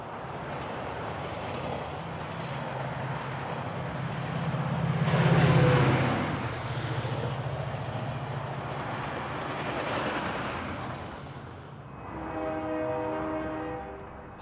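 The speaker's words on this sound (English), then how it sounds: "we returned to the same place to capture westbound Metrolink Train 409" A westbound Metrolink passenger train made up of two coupled train sets rumbles past loudly, with a strong horn blast near the middle and another sustained horn call toward the end.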